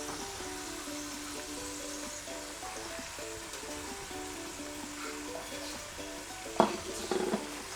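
Minced meat frying in hot oil with salt, pepper and spices, a steady soft sizzle with faint stirring scrapes and a couple of sharper utensil knocks near the end.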